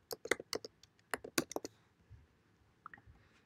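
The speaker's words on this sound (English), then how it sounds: "Give your project a name by typing it in the field up here." Keys clack on a computer keyboard while a project name is typed, a quick irregular burst of close clicks that stops and leaves a quiet pause with a few faint taps.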